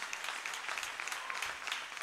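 A church congregation applauding, a faint, distant wash of many hands clapping in an even patter, brief and without voices.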